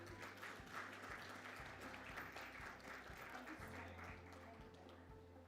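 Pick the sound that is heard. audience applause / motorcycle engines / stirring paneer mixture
audience applause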